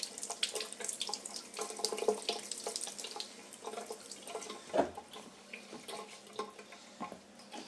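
Tap water runs into a sink while etching stencils are rinsed out, a close splashing flow broken by uneven spatters and drips as items move under the stream, with no speech.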